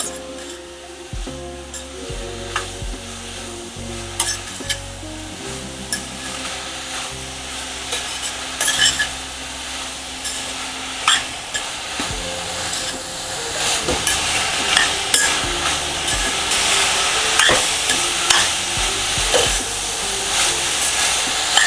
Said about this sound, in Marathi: पाच पाच एक मिनटं तरी हे गाजर परतायचं आणि एकीकडे हे असं स्मॅश करायचं